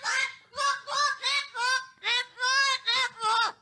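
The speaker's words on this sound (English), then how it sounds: "Dude, it's a bird." A goose-like bird honks loudly and close by, giving eight harsh, evenly spaced honks in a rapid rhythm with no talk over them.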